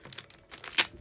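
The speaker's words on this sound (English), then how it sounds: "Kind of just kind of tape it on 4 sides." Packing tape being pulled and pressed onto the sides of a package, a short series of quick crackling rips and taps ending in one sharper, louder tearing burst.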